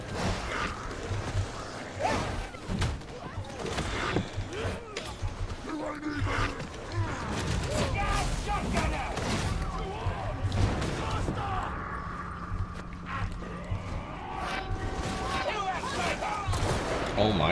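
Shotgun fire in the Warhammer Darktide video game, repeated sharp blasts scattered through a busy, dense battle soundscape with other weapon fire and mechanisms, while players talk over the action.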